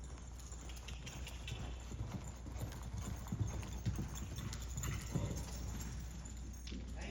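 Horse hooves loping on ground during a riding training session: a steady, rhythmic clip-clop at moderate distance that continues throughout over a low rumble, with faint voices in the background.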